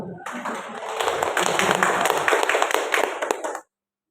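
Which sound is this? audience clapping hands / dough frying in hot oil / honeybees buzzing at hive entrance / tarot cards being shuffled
audience clapping hands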